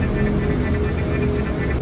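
An airplane in flight on a round trip to Israel, heard as a loud, steady cabin drone and rumble that fills the short stretch without change.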